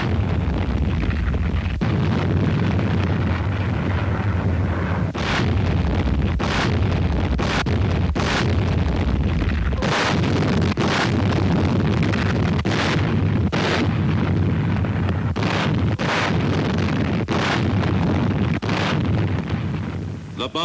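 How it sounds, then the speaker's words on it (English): Wartime naval bombardment of the island of Beisho on D-Day morning before the landing, with repeated heavy booms and blasts over a constant rumbling roar and someone narrating over it. "The Navy shelled the target island of Beisho on D-Day morning for only 3 hours before the landing."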